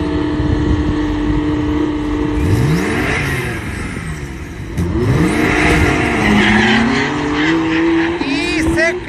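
Two Porsches, a 911 Carrera S and a GTS, launch in a drag race, engines revving loudly and rising through gears with tire squeal, over crowd noise and a commentator talking throughout.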